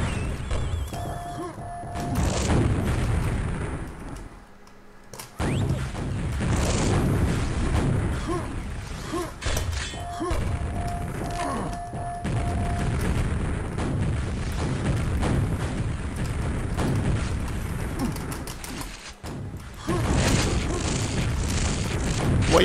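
Loud booming rocket blasts in a competitive video game match, with repeated heavy explosions and crashes over continuous in-game noise, briefly dropping out twice.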